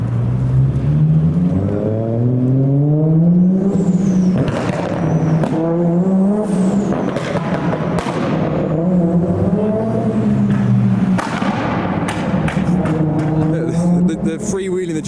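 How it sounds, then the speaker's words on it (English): A Nissan GT-R engine revs repeatedly at an underground car show, rising and falling loud blips and a bit of tyre squeal, with someone talking over it. "A lot of revving from the GTR."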